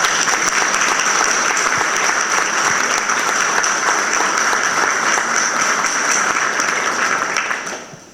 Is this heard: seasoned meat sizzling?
no